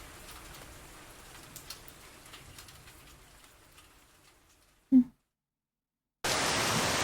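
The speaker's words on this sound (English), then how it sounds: "The rain has got worse when I start heading back home from the gym." Rain falls in a city on the way home from the gym. A faint patter and a brief bird call give way to silence, then a sudden loud, steady wash of rain.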